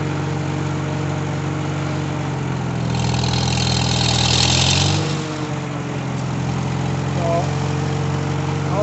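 An IH 120 lawn mower engine runs in third gear with a steady, loud mid-low drone. It rises and roughens briefly in the middle, then settles back, with no speech over it.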